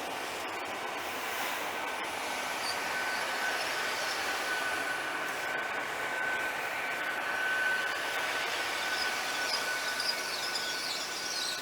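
A Great Western Railway Class 802 passenger train pulls into Liskeard station on the Cornish Main Line, a steady broad rumble and rush of wheels on rail with a faint high whine, sustained and moderately distant.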